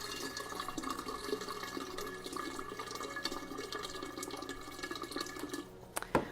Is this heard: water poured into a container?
yes